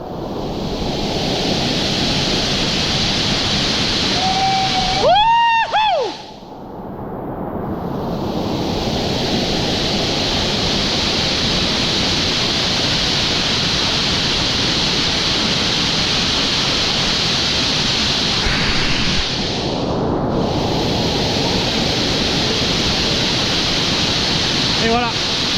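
An underground river rushing through the Rivière Chevaline cave in the Vercors, a loud, steady roar of water dominating throughout, briefly dipping once as talk and whistle-like tones cut in.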